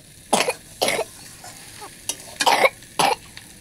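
A person coughs in a series of about five or six harsh, close bursts at irregular intervals, over a faint sizzle of food frying in a pan.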